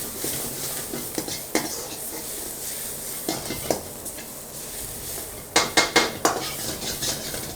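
Indo-Chinese street food with plenty of green chillies being stirred in a pan: repeated metal scrapes and clanks of a utensil against the pan, with a cluster of sharper knocks near the end over a low sizzle.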